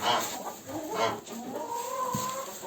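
Several chickens cluck and murmur close by, a steady busy flock chatter with a few louder calls rising over it.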